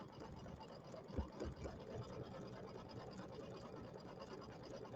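An embroidery machine stitches a Kimberbell table topper design with a steady mechanical hum and faint repetitive clatter, low and continuous throughout, with a couple of slightly louder thumps near the start.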